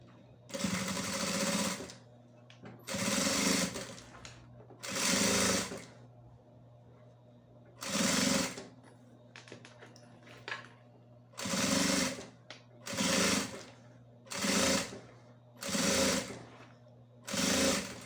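A sewing machine stitches a bag lining in a run of short, loud, buzzing bursts of about a second each, broken by quiet pauses with a faint low hum underneath.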